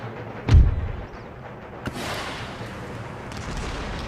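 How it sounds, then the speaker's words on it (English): A mortar shell lands close by in the Empire: Total War strategy game (Darthmod), one heavy low boom followed by a rumbling tail and a second softer impact amid battle ambience. "are we getting hit by his mortar?"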